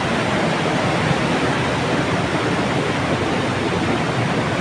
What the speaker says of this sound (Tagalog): Yung dagundong ng tubig.